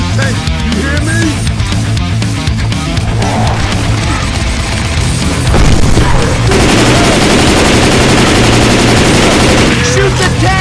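Gunfire aimed at the Tank in the zombie shooter Left 4 Dead 2, loud continuous rapid automatic bursts and shotgun blasts in a chaotic fight, with game character voices shouting over the shooting.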